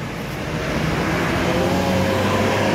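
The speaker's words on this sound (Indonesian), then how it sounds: "Nih ada bis satu lewat teman-teman." A bus rolling past a toll gate on an Indonesian toll road, a steady broadband engine and tyre roar that swells slightly as it passes, loud and close with no voices over it.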